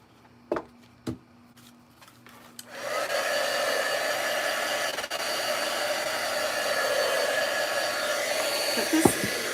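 A hair dryer switches on after a few sharp knocks and runs steadily and loudly, drying a handmade craft project at a table.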